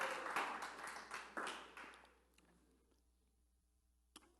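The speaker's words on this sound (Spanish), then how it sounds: "Un aplauso para mí" Church congregation applause during a sermon, a short burst of scattered clapping that quickly fades to near silence, followed by a single faint clap near the end.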